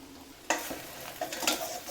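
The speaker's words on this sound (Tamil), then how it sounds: "இன்னும் கொஞ்சோண்டு எண்ணெய் ஊற்றுவோம் திரி போட்டு கொஞ்சோண்டு எண்ணெய் ஊற்றுவோம் அப்போ தான் நல்லா இது பண்ணி வரும்" An egg omelette frying in oil in a pan, with a soft sizzle that rises in short bursts as it is stirred or turned, quiet and close, with no talking.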